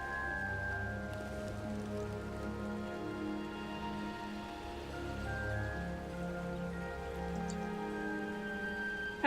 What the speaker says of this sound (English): It's because it's raining outside.